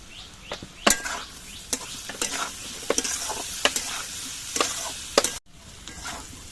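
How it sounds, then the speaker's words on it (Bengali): Potatoes frying in a pan with a little salt, a soft continuous sizzle broken by sharp, irregular scrapes and knocks of a stirring spatula, close by and without talk. "আলু ভাজার সময়ও অল্প একটু নুন আমি দিয়ে দিচ্ছি"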